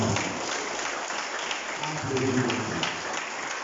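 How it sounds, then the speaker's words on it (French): Congregation applauding during Sunday morning worship in church, a steady wash of clapping hands with some voices mixed in underneath throughout. "Applaudissez le Seigneur pour ça."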